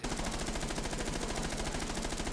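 Rapid automatic gunfire in Rainbow Six Siege, a loud continuous burst of evenly spaced shots in fast rhythm, close and dominant with no pauses.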